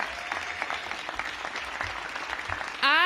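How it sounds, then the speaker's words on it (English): An audience at a Washington DC elementary school ribbon cutting claps in a brief, dense burst of applause, ending as a voice begins speaking. "So give them all a big round of applause in advance."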